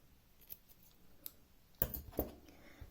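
A quiet, close snip of scissors cutting through yarn, two quick clicks near the end after faint ticking.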